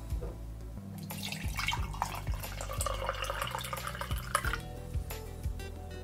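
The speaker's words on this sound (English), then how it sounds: "just take the water from the hot kettle and pour it into the cup" Hot water from a kettle poured into a cup for tea, a steady liquid splashing and trickling that runs continuously for several seconds, close and fairly loud, over a low hum with faint rhythmic knocks.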